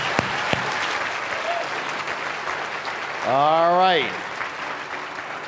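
An audience claps steadily through the whole stretch at a talk on changing beliefs, moderately loud and continuous, while a voice rises over it partway through with a brief spoken remark.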